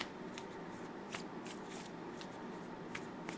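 Moonology oracle cards shuffled by hand, a quick string of soft papery flicks and riffles up close over a steady background hiss, with no talking.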